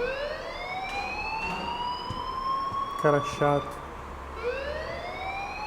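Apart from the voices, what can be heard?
alarm ringing in the video game Life is Strange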